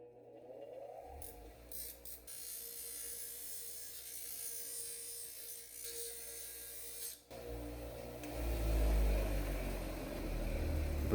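A power tool whirs steadily as it sands a bevel onto the cut end of a piece of PVC pipe, the grinding tone shifting and growing rougher and louder toward the end, close with no talk.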